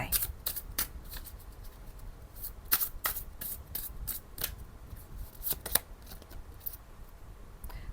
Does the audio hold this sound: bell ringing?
no